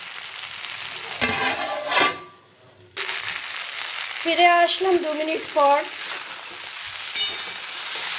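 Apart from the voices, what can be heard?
vegetables (drumsticks) frying and being stirred in a pan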